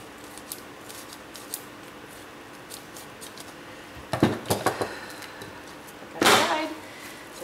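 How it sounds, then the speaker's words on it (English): A few quick scissor snips sound up close in a quiet room, a short cluster of cuts followed by a louder crisp snip. "I'm going to go ahead and get my scissors"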